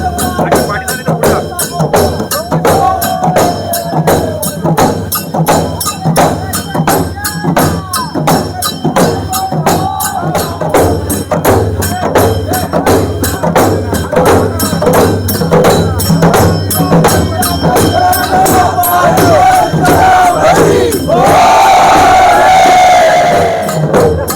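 A festive Dhulwad procession crowd shouts and cheers over a pounding dhol, rhythmic drum beats repeating evenly throughout, with the crowd noise swelling louder toward the end.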